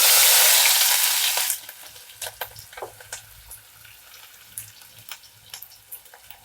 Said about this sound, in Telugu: ఆవాలు చుట్టుపక్కల ఆడుతున్నాయి కదా సన్నగా కట్ చేసి పెట్టుకున్న ఉల్లిపాయ ముక్కలు